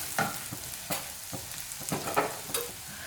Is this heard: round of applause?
no